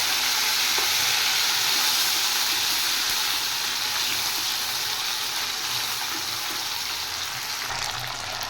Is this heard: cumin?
yes